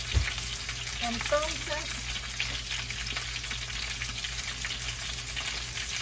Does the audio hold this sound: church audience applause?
no